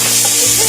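Onions sizzling in desi ghee for Lucknow-style mutton shami kabab, a short steady close-up frying hiss with a brief spoken word over it.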